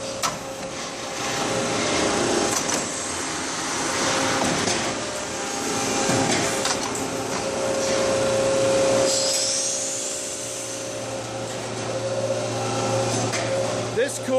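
Mandrel bending machine bending a header pipe in a workshop, a continuous loud mechanical whine and grinding hum with a steady tone that shifts partway through, while a person talks over it.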